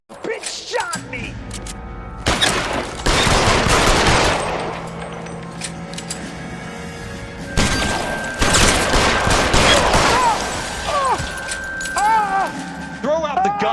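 Bursts of gunfire from the L.A. Noire detective game: heavy, loud volleys of shots with dense crackling fusillades, separated by quieter stretches, with game dialogue and other voices talking throughout.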